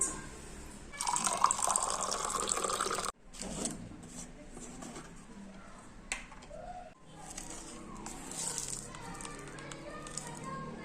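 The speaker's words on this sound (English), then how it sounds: "This is some warm water. This is how I'm going to mix my marmalade." Warm water pours into a cup to mix a marmalade drink, a steady filling splash for about two seconds, then quieter handling sounds follow.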